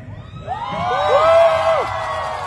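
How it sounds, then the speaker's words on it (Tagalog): Crowd at a rally for transparency and democracy shouting and whooping together, rising voices swelling to a loud sustained roar before easing slightly, close and dense. "Sapat na yung sigaw nyo"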